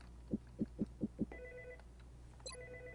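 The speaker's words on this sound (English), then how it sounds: "The phone in here is ringing." A telephone rings in XCOM: Enemy Unknown, with a few low knocking thuds first, then two bursts of an electronic ring tone, moderately loud over a soft background hum.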